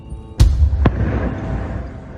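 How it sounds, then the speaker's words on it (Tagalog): An explosion from airstrikes in the Gaza Strip booms sharply, seen from across the border, followed by a second quicker blast and a low rumbling tail; loud and somewhat distant, no voices. "Sa mismo border, tanaw ang mayat-mayang pagsabog sa iba't ibang bahagi ng Gaza Strip."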